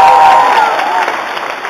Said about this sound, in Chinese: 谢谢朋友们的热情掌声